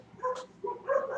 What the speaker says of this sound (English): Please excuse my dogs. They're just going nuts here.